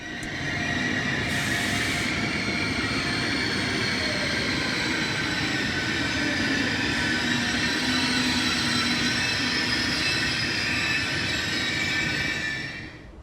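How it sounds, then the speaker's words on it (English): A high-speed ICE train rolls steadily into a Berlin station platform with a loud, sustained rumble and high metallic wheel squeal, close by and continuous throughout. "our train has arrived almost 20 minutes before scheduled departure"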